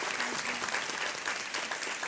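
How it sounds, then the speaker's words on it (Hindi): A studio audience on the Kaun Banega Crorepati quiz show bursts into dense, sustained applause to welcome the guests, a full, even wash of clapping with no talking on top. "एक बार फिर तालियों के साथ इनका स्वागत।"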